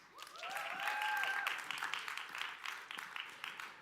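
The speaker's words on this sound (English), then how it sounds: "Give yourself a round of applause." Audience applause at the TechChill tech conference in Riga, on the Muse stage: dense, steady clapping from a crowd, with a few whoops and cheers rising over it early on, then settling into even clapping.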